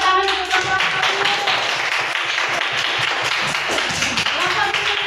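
Classroom group applauding a student team, a dense patter of many hands clapping steadily at close range, with some voices in the room.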